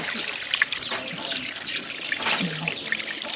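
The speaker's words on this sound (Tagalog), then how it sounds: "Sahod pa tong tubig." Spring water trickling from a pipe into a container as it is collected, a thin steady dribble close by with faint voices in the background.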